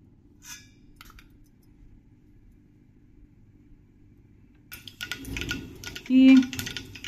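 Mustard seeds splutter and crackle in hot oil in a pan, a burst of sharp pops starting partway through and growing louder after a quiet stretch, with a brief clink near the start.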